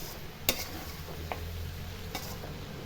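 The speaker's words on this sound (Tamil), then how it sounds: "இப்போ நல்லா கலரி செய்யணும்." Shark puttu being stirred and fried in a pan: a steady low sizzle runs throughout, with a few sharp scraping clicks of the spoon against the pan.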